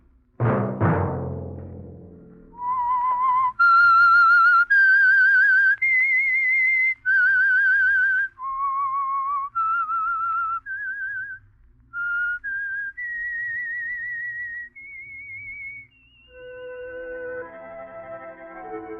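A clear whistled melody, the theme of the radio show The Whistler, rises and falls through sustained pure notes, loud and alone after a brief noisy burst at the start.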